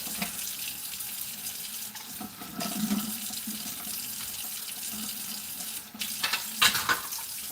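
Water runs steadily into a sink while greasy dishes are washed, a close, moderate splashing flow with occasional clinks and swishes.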